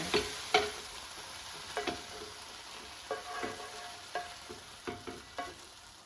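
Quiet, continuous sizzling of plums sautéing in a frying pan, with occasional soft clicks and stirring taps spread irregularly throughout.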